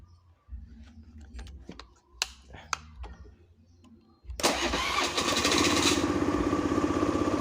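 A Honda Scoopy i scooter with a charging fault: soft clicks and handling noises first, then the engine catches suddenly and idles loudly and steadily at close range.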